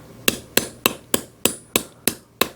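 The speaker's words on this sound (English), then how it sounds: "Maybe we can take and put this on the bench block and hammer it down flat" Jewelry metal hammered flat on a steel bench block: nine sharp, ringing hammer strikes at an even, steady rhythm, loud and close with no voices.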